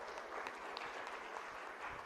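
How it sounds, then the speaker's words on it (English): Audience applause at an international seminar on early childhood education, a steady wash of many hands clapping at moderate distance, fairly quiet and even throughout with no voices over it. "So please give an applause to the preschool teachers in the back."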